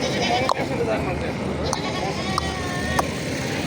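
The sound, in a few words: goat bleating at a goat market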